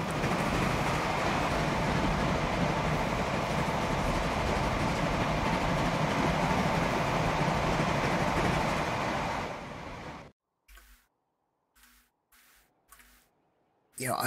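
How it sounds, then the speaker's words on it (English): Very old passenger train in the Transport Fever game on a UK & Ireland map, a steady loud rolling rumble for about ten seconds that cuts off abruptly, followed by short sparse clicks. "That must be a passenger train coming out this way."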